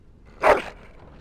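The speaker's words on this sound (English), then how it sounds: "That is a wonderful dog." One short, clear bark from a noble dog in the video game Dragon Age Origins, close and alone against quiet background.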